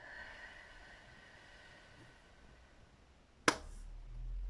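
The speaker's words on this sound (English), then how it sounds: "after each breath I would like for you to just do a clap" A single sharp hand clap after a quiet breathing exercise, sudden and close against a low hum, followed by a brief rumble.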